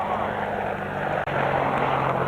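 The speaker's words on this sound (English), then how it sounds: "Chief Warrant Officer Jack Pike, thank you very much for a great demo from the Apache helicopter" An Apache helicopter at an air show produces a loud, steady broadband rotor and engine roar throughout, briefly cut by a momentary dropout, with a voice heard over the noise.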